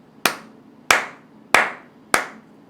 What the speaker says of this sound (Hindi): ताली जो है वो एक हाथ से नहीं बजती।